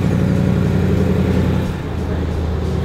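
Idling V8 of a rented 5.0 Ford Mustang, a steady low rumble that stays loud and close throughout, easing slightly near the end, with no voices over it.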